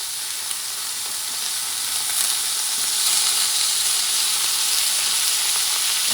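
Lamb chops sizzling loudly in a hot pan as unsalted butter goes in, a dense, close, continuous hiss that swells slightly midway and holds steady, with no voices.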